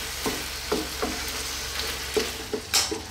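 Meat sauce simmering in a pan is stirred every so often; a steady low sizzle runs underneath while a spoon scrapes and taps against the pan in short, evenly spaced strokes, with no talking.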